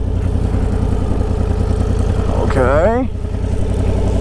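A 1000cc motorcycle engine running at low speed, a loud, steady, close rumbling putter that swells briefly mid-way while someone speaks a short word over it.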